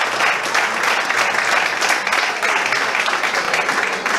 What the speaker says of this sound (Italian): la squadra deve fare un applauso agli ultras perché se la merita.